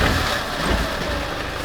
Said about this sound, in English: I have to start it up. It's a 12 HT, so let's just lean in and kick this in the guts.